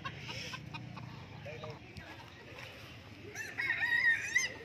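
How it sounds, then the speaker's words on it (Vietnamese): A BD rooster at a bird market in Lạng Sơn crows amid busy market noise and background voices, its call rising toward the end of the stretch. "lại mang con gà BD ra"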